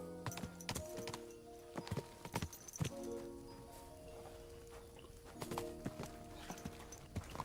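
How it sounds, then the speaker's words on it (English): Horse hooves clip-clop on hard ground while riding in the medieval video game Kingdom Come: Deliverance II, sharp irregular strikes in bursts at close range with quieter gaps between them. "Is this your first time riding a horse"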